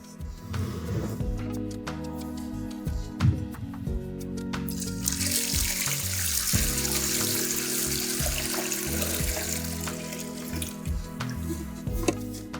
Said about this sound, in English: And water.